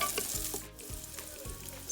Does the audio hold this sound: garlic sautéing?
yes